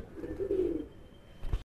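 A pigeon gives a soft, low coo close by during a deworming session, a single short phrase in a quiet room, followed by a brief faint bump just before the sound stops.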